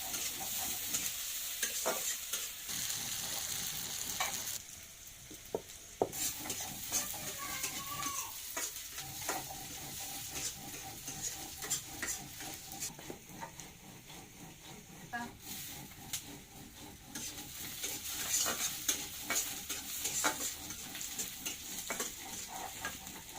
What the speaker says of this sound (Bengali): পেঁয়াজগুলো ভালো করে ভেজে দিচ্ছি